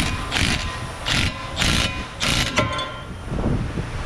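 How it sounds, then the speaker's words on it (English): A ball joint and tie rod separator tool clicks and ratchets in a series of about five sharp, evenly spaced metallic cranks while it presses a joint out of a steering knuckle, close and clear with no talking. "I will just use the ball joint / tie rod separator tool and press it out of the knuckle."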